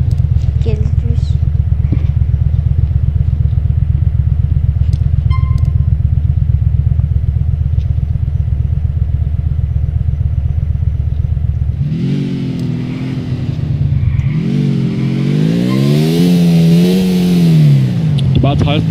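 A police motorcycle engine in the LCPDFR video game drones loudly and steadily at low revs, then revs up and climbs in pitch twice near the end, without talk.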